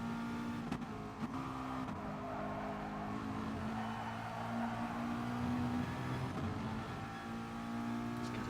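A McLaren race car at Monza in a racing video game, its engine holding a steady, continuous drone near and fairly loud for the whole stretch, with no voices over it.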